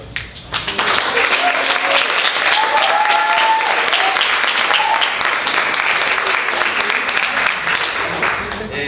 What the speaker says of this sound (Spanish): le dan un aplauso grande